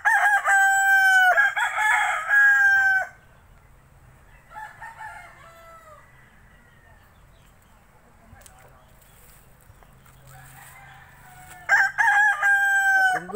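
A white rooster crows loudly and close by in a Bonbon, Oslob, Cebu yard, with one full crow at the start and another at the end and quiet farm ambience between them.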